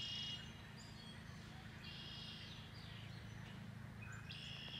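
Faint black-capped chickadees call in short, repeated high notes over a steady low outdoor rumble, with a few separate calls spaced through the stretch.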